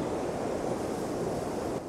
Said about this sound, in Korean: 저 파도 분수처럼